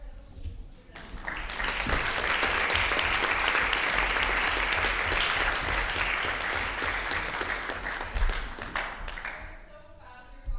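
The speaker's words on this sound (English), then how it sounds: "I would now like to ask for another round of applause for all of our incredible teams presenting." Crowd at an incubator pitch night applauding the presenting teams: after a brief pause, sustained clapping swells in and holds steady, then thins into a few scattered claps, with faint voices at the close.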